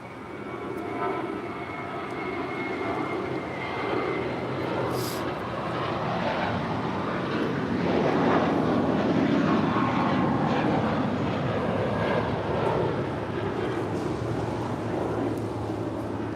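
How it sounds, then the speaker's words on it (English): An American Airlines Airbus A321 jet airliner departs LAX, its engine roar a broad steady rush that builds gradually and holds loud and continuous at middle distance. "1568 departing to Los Cabos on an 8-year-old A321"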